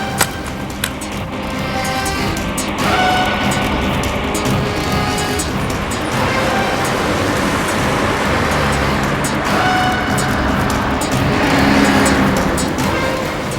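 A lorry drives along a busy road with steady loud engine roar and passing traffic noise throughout, close by and without talk.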